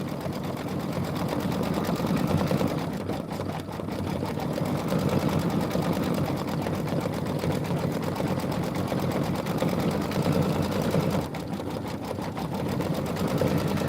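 An embroidery sewing machine stitches a quilt block, its rapid needle chatter running steadily and fairly quietly, with brief lulls partway through.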